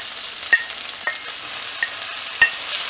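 Onions, green chillies and tomato fry in a pan for a quail egg and prawn curry, giving a steady close sizzle broken by four sharp scrapes of stirring at uneven intervals, with no voices.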